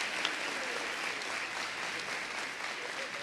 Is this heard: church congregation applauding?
yes